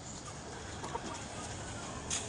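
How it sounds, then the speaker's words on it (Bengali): Native (desi) chickens cluck softly in the distance, a few brief calls over a constant background hum. "এখানে মুরগি আছে কিছু, দেশি মুরগি"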